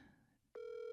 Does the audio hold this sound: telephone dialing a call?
yes